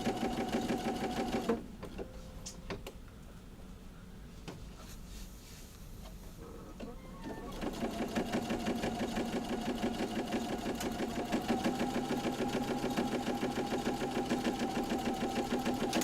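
A domestic sewing machine stitching a fabric tube for a pillowcase runs in a steady rapid whir, pauses briefly, then resumes and runs continuously to the end.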